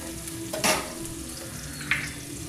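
Chopped big onions fry in hot oil with a steady close sizzle and hiss, broken by two brief louder scraping stirs.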